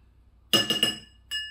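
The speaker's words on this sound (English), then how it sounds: "we have our solution over here, which the salt has sat at the bottom again, so we need to stir it" A utensil clinks against a glass bowl while salt solution is stirred, giving a few quick bright rings and then one more clink after a short pause.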